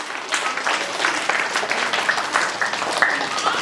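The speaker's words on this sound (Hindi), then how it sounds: "जोरदार तालियां।" Steady applause from a crowd at an Independence Day yoga demonstration, continuous dense clapping of moderate loudness throughout with no talking.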